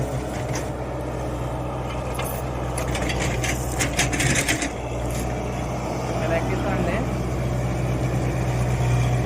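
Machine engine running steadily as it is driven up a ramp during shifting, a constant low idling drone throughout with a voice talking over it.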